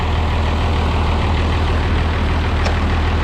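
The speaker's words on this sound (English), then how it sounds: "Okay, I got the 706 running now," An International 706 tractor engine running steadily, a loud, close, continuous low diesel rumble with no breaks, heard alone without any talk.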